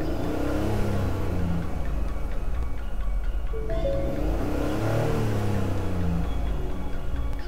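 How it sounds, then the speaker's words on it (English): A car engine revs as the accelerator is pressed, a loud rumbling drone that swells and eases with each push on the gas. "I'm going to go ahead and push on the gas right here, moving my accelerator"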